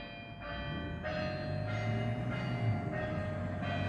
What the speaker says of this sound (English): The church bells are ode to joy.